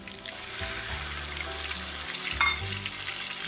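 Onion paste frying in oil for a paneer curry, a steady broadband sizzle with a wet, watery texture and faint scraping of stirring throughout, moderately loud with no talk.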